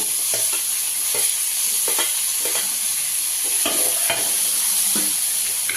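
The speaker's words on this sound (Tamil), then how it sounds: "இப்போ தக்காளி கொஞ்சம் நல்லா வதங்கணுங்க." Tomatoes sautéing in a pan, a steady sizzle of frying with repeated scrapes and knocks of a spoon stirring them at irregular intervals, close and continuous with no voices.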